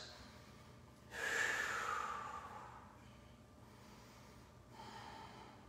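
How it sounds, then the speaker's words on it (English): Slow, deep breathing during a power yoga session: one long audible inhale-exhale with a softer second breath later, close and fairly quiet, with no talk. "Slow, deep breaths here."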